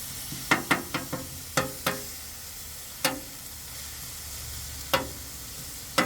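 Cheesesteak meat sizzling steadily on a Blackstone griddle, broken by sharp metal spatula scrapes and taps as the meat is shredded, close and clear, with no talking.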